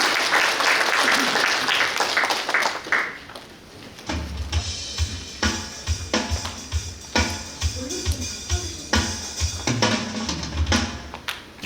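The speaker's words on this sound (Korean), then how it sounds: "큰 박수 부탁드립니다." Audience applause at a Suncheon policy talk show, a broad wash of clapping at first, then rhythmic group clapping in time with music, with a voice calling out over it.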